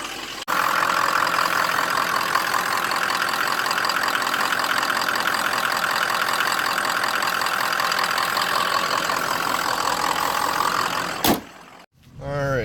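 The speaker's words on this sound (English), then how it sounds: "She's been idling here for about 5 minutes." A 2003 Ford 6.0 Powerstroke diesel truck engine, warmed up after several minutes, idles with a steady clattering rattle and hum, close and continuous, before a sudden bump and shuffle near the end; no talk over it.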